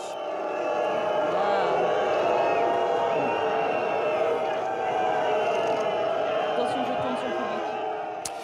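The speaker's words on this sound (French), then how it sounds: "le Premier ministre français Manuel Valls, sifflé par la foule sur la promenade des Anglais" A crowd on the Promenade des Anglais in Nice jeers at French Prime Minister Manuel Valls, a sustained roar of booing voices with faint whistles rising over it.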